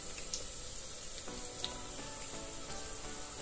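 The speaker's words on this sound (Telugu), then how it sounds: "ఇదంతా కొంచెం దోరగా వేగేలాగా వేపుకోవాలండి సిమ్ లోనే ఉంచి।" Onions and curry leaves fry in oil over a low flame, giving a steady soft sizzle with faint stirring clicks, close and quiet, with no voices.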